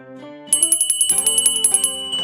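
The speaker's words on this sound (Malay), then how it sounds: "bunyi loceng itu menandakan masa untuk kuis ria" A small bell rings rapidly in a quick series of bright strikes over a sustained musical tone.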